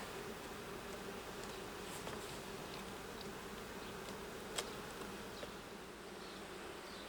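Honey bees buzz steadily around an opened hive while the brood nest is expanded, a faint continuous drone with a few soft knocks and no voices.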